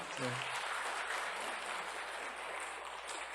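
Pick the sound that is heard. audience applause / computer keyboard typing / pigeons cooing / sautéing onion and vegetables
audience applause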